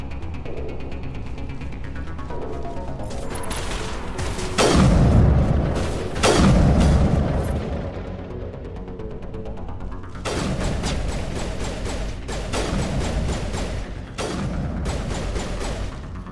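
Gunfire and heavy booming blasts in a sci-fi shooter game, with sharp bursts of shots, two big explosive thuds, then a run of rapid cracking gunfire in quick clusters.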